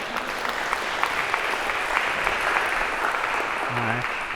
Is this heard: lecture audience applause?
yes